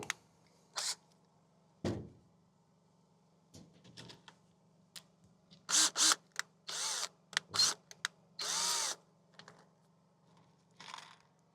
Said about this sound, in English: Now I'm going to put 2 screws in here